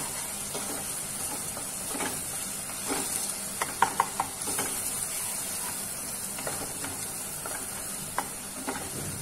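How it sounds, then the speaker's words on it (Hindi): Chopped onions fry in oil over medium-high heat for kadhai paneer: a steady soft sizzle with scattered crackles and pops, and light stirring scrapes throughout. "इसकी जो आंच है वो हमें मीडियम हाई रखनी है और प्याज को अच्छे से भूनना है।"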